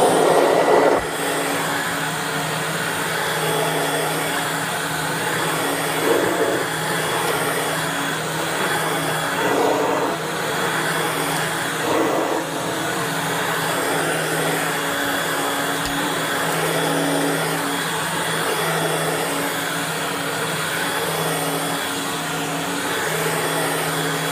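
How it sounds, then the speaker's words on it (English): A Dirt Devil Broom Vac vacuum cleaner runs continuously, a steady whining motor drone with a broad airy rush that barely changes for the whole stretch, close by and with no talking. "It's a Dirt Devil Broom Vac."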